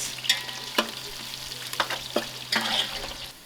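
Browned onions sizzle in a large pot over an outdoor fire while being stirred for a vegetable biryani for 25 people, with several sharp scraping strokes over a soft frying hiss.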